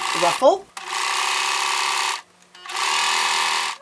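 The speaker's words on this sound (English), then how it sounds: "So I use my serger to do the rolled hem to finish the chiffon ruffle." A serger sewing a rolled hem on a chiffon ruffle runs in two fast, buzzing bursts with a short pause between, preceded by a brief voice.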